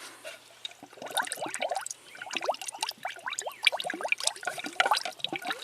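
Coolant gurgles and bubbles out of the radiator of a Jeep Pentastar V6 with an air pocket in its cooling system, giving a busy stream of close, irregular bubbling pops.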